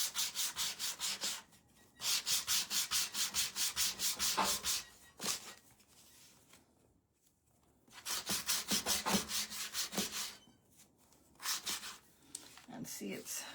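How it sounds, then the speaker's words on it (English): Sandpaper rubbed over a craft surface in fast back-and-forth strokes, loud close rasping bursts in a steady rhythm with pauses between runs. "you want the strokes of your sandpaper to kind of look like it's together"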